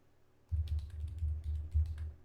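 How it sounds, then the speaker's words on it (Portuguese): Fingers type results on a computer keyboard in a clinical lab setting, a quick run of close, irregular key clicks starting after a brief quiet moment, no talking. "aí vai digitando os resultados aqui"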